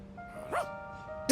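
A single short dog bark rings out in the Persona 3 Reload video game, clear and fairly close against a quiet backdrop of steady musical tones, with a louder burst cut off at the very end.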